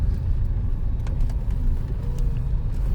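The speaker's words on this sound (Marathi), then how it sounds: "चला मी गाडी चालवतो." A car drives along a rough, poorly surfaced road, giving a steady low engine and road rumble that stays even throughout with no talking.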